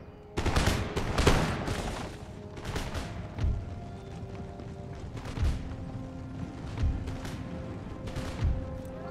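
Musket volleys crackle across an Empire: Total War battlefield, several ragged bursts of massed gunfire rolling out at intervals, with distant booms and a faint mechanical background between them.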